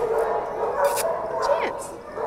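A puppy yips and whimpers in short bursts close by, with background chatter and room noise running underneath.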